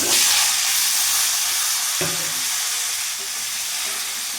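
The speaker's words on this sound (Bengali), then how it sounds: "এবার কিছুক্ষণ তেলের মধ্যে আমি নাড়াচাড়া দিয়ে একটু ভাজা ভাজা করে নেব" Chopped mixed vegetables stir-frying in hot oil with five-spice and dried red chilli for a mixed veg curry, a steady loud sizzle throughout with a clatter of stirring near the two-second mark, no talk.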